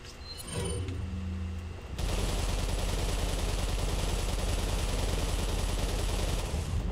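Sustained rapid gunfire in Resident Evil 4, a dense continuous barrage starting after a brief lead-in of softer game sounds and holding loud and steady to the end.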